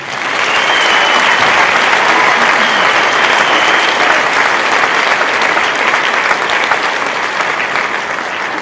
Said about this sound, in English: let's give one more outstanding round of applause for the high school chamber band, along with 5th through 8th grade bands, and the outstanding IBA director